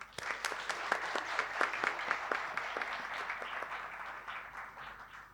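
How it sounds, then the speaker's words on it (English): Audience applause at a conference on India's development, a sustained round of clapping with distinct individual claps standing out, steady then gradually thinning toward the end. "please join me in giving a heartfelt round of applause to Shri Chiranjeev Patel."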